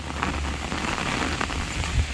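Heavy early-morning monsoon rain pours down steadily as a dense, even hiss of drops, close and continuous with no voices.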